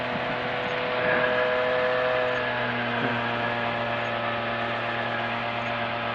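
A light aircraft engine cruises in level flight with flaps up at about 7,000 RPM, producing a loud, unbroken droning hum with steady tonal layers that barely changes.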